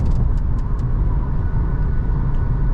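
A VW Virtus 1.5 with manual transmission cruising on a highway at around 2000 rpm: steady low engine drone and road rumble from inside the cabin, even and continuous, with no talk.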